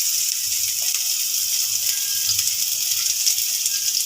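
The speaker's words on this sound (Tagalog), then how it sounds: "Ating gagawin guys ay magisa na tayo ng mga sibuyas." Onions sautéing in a pan for a Filipino-style chicken curry, giving a steady, even sizzle with a soft watery hiss that carries on unbroken and with no talking over it.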